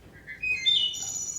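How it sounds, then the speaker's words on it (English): Wood thrush song outdoors: a short run of clear, fluty whistled notes rising in pitch, moderately near and alone over soft background hiss. "And that's a wood thrush, another beautiful song."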